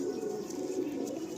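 Tournament racing pigeons kept for sale coo in a loft, soft low throaty calls layered over one another, continuous and close.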